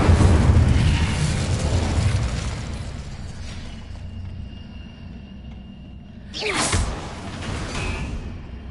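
Confringo and Incendio spell blasts in Hogwarts Legacy: a rushing fiery roar that fades over several seconds, then a second whooshing burst with a crackling flare, moderately loud with a faint tonal hum between.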